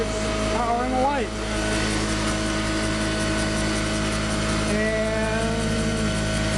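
A modified DC motor spins the crankshaft of a 10 kW generator that lights a 100-watt bulb, giving a steady, loud mechanical hum with a constant tone throughout and a brief pitch wobble near the start.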